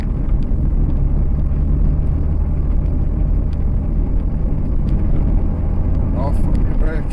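Car engine roaring steadily at close range on the race track at East Fortune in East Lothian, a continuous loud drone with rumbling low end, while an instructor talks over it.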